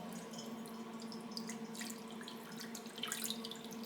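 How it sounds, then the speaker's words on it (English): Hot water from a kitchen faucet is poured slowly into a baking pan, a soft continuous trickling and splashing with a few brighter gurgles near the end, fairly quiet and close, with no talking. "here I have some hot water right from the faucet, and I'm just going to slowly pour it in my pan"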